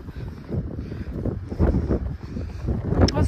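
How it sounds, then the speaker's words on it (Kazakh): Blizzard wind in the Karaganda region buffeting the microphone in heavy, uneven low gusts that swell and fade, loud and close, with no clear speech. "Жел."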